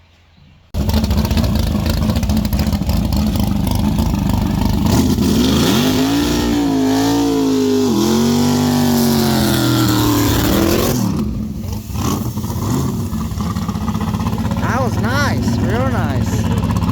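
Drag racing truck called Little Gangster making a test pass at 710 Dragway, a loud sustained engine roar rising and shifting in pitch as it accelerates away, then fading to a lower rumble near the end.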